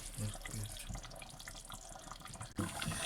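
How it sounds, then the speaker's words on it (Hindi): Hot water pours steadily into a pot of mutton soup with a continuous splashing rush, and a voice talks briefly at the start and end. "तो मुझे इसमें थोड़ा पानी डालना पड़ेगा।"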